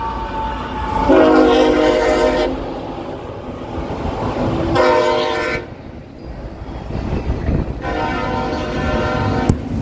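A passing train led by a rare flared Mac locomotive sounds its horn in three long, loud blasts separated by pauses, over a continuous rumble and rattle of rolling cars close by.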